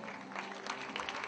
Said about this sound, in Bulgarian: Още по-силни аплодисменти искам